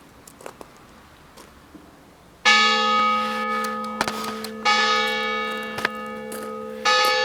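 Church bells in the village of Bar-sur-Loup ring out loud and resonant, with fresh strikes that swell the ringing again and again over a quiet outdoor background.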